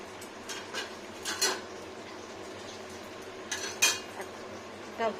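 Fried eggs being stirred in a pan beside lentil fritters, with several sharp clinks of a utensil against the pan scattered over a steady background hiss.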